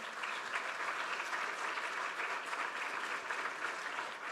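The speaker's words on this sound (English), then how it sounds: "A warm round of applause for our panel." An audience at a conference panel on coastal communities applauds, dense even clapping held steadily for a few seconds, moderately distant and without talk.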